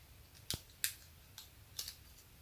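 Paper shapes snipped out with scissors, a handful of short, crisp cuts spaced apart, close and fairly quiet against a soft background.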